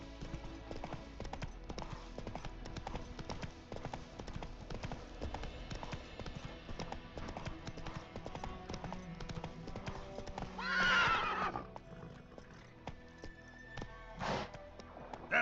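A horse's hooves clip-clop steadily in The Witcher 3 video game, a continuous rhythmic gallop with a brief whinny partway through, heard alone at moderate volume.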